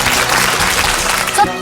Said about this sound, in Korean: 힘찬 박수로 축하해 주시기 바랍니다